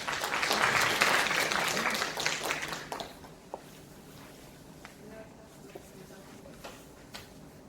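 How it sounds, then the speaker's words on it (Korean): Attendees at a Hwaseong citizens' regional meeting in Dongtan clap warmly for about three seconds, then the applause dies away into quiet room noise with a few faint knocks. "큰 박수 부탁드리겠습니다."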